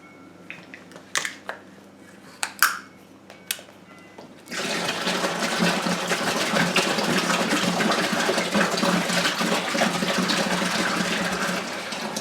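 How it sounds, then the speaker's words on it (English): About two gallons of water poured into a cold brew coffee maker container set over a sink, a steady, loud rushing gush that starts abruptly after some light clatter and continues to the end. "we're just going to go ahead and pour our 2 gallons down in"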